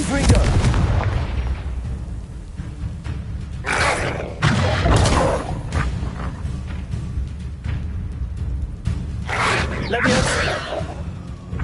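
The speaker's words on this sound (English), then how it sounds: "Confringo!" Confringo blasting spells from Hogwarts Legacy go off as repeated loud explosive booms and cracks, several bursts in a row against a steady rumbling battle din.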